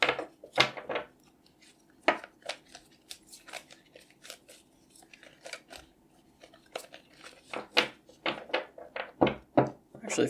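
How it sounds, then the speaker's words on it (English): Tarot cards shuffled by hand, with sporadic crisp riffling snaps and taps scattered over several seconds at close range, fairly quiet with gaps between bursts. "let's give these a good shuffle."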